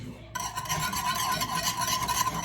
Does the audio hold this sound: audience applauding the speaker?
no